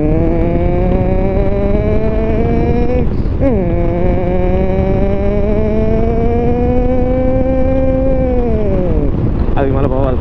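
Superbikes accelerating on a road during a Madurai to Chennai ride: a loud, close, continuous engine drone with wind buffeting that climbs steadily in pitch, dips sharply as a gear changes, then climbs again, before another drop and a fresh rise near the end.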